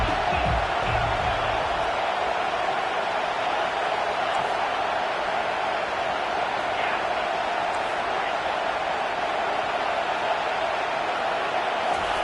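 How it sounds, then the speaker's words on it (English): Steady, dense stadium crowd roar during a third-down play in College Football 25, sustained and fairly loud throughout with no clear peaks. "Decibels rising as the crowd gets behind this defense on 3rd down."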